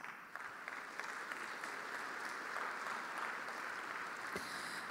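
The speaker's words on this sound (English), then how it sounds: "And I will ask you for a round of applause." Sustained applause from a conference audience welcoming a distinguished speaker, steady dense clapping at a fairly soft, distant level throughout, with no talk over it.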